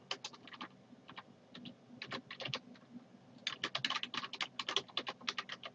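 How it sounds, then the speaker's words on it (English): Fast, uneven keystrokes on a computer keyboard, with a pause before the clicks grow louder and denser toward the end; no voice. "So I'll just sit here and I'll type in"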